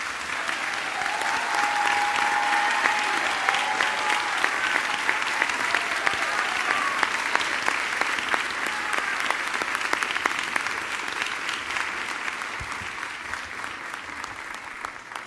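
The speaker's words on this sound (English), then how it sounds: "please join me in giving these honorees an applause" Sustained audience applause for honorees at an anniversary ministers and laity forum, a dense even clapping from a sizable crowd filling the room and holding steady before easing slightly at the end.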